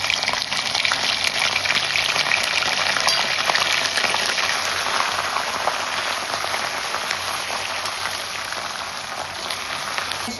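Ginger-garlic paste fries in hot oil with cinnamon and cloves over a low gas flame, a steady, close, crackling sizzle that continues evenly throughout with no voices.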